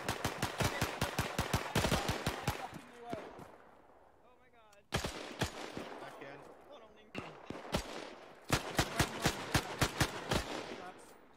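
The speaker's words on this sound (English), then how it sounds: "Find cover and return fire!" Gunfire rings out during a beach landing assault in a military video game, with rapid bursts of sharp shots in several clusters, near and loud, broken by brief lulls, and voices talking over the fighting.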